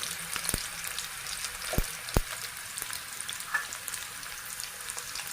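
Onion, cumin and mustard seeds sizzle steadily in hot oil, a close, even frying hiss broken by a few sharp pops and crackles.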